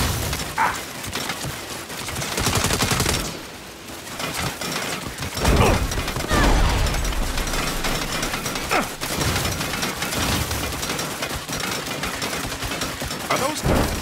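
Turrets firing in Saints Row: loud, dense rapid gunfire in bursts and sustained volleys, with breaks, amid a busy game soundscape of rumble and shouts.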